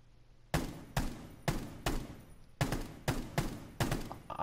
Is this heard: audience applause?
no